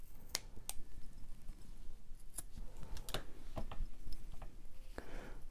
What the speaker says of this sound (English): kind of trim this a little bit to make it look a little nicer